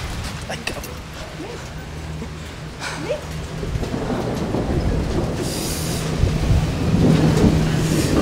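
Heavy rain pours down steadily at the La Barranca canyon lookout in a cold storm, a dense continuous wash with low rumbling and occasional brief bursts, growing slightly louder toward the end.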